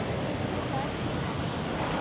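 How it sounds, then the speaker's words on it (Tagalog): Rough surf and strong wind at Pattaya Beach make a dense, steady roar with constant wind buffeting on the microphone, loud and unbroken throughout. "Maalon pa rin at mahangin."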